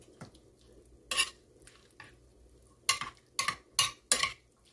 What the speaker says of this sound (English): we can just take the spoon and just squeeze that juice out